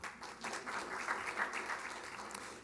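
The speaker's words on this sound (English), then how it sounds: "I want to give her a special round of applause for helping to organize this particular event" Breakfast event attendees applaud in a brief, steady burst of clapping, heard at a distance and fairly quiet, fading slightly toward the end.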